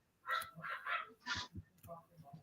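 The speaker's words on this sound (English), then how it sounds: "And my dog's going crazy." A dog barks repeatedly at the door indoors, several sharp barks in an uneven burst, fairly close, with a person talking in between.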